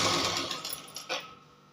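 Sewing machine stitching a blouse lining, a close buzzing run of stitches that slows with a couple of bursts before stopping.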